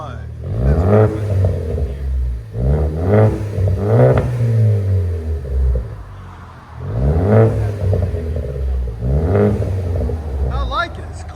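Close, loud revving from a 2016 Ford Focus ST 2.0L turbo fitted with an AWE Track cat-back exhaust: about five sharp throttle blips climb and drop over a steady idle.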